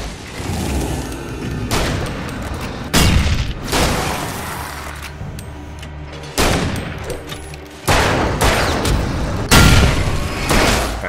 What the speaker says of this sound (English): You want some of this shotgun?